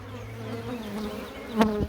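Honey bees buzzing at a beehive, a close, steady droning hum with a louder insect pass near the end.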